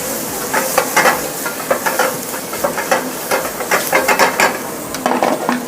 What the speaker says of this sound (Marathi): त्यानंतर आपण मटन फिश टाकून घ्यायचं आपण मटण टाकून घ्यायचं परत एकदा ते परतून घ्यायचं